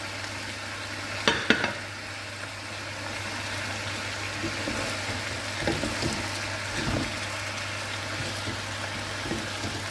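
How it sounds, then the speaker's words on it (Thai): Holy basil leaves drop into a hot frying pan, giving a soft, steady sizzle with a brief clatter early on and occasional stirring scrapes, fairly quiet and without talk. "ใบกะเพราค่ะ ใส่ลงไปเยอะๆ"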